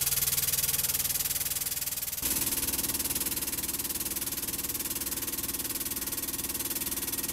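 A ZABJ-22PA air bottle jack lifts a vehicle with a continuous pneumatic hiss and mechanical hum. The tone shifts once partway through as the air valve lever is pressed, then holds steady.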